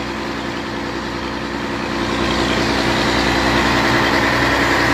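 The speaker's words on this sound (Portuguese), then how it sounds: "Vamos mostrar aqui o motor da balsa, né?" A large diesel engine idles aboard the tugboat of a river ferry on the Araguaia, near the BR-153 crossing between Pará and Tocantins. The deep, steady drone is close and loud, swelling slightly partway through, with no talking.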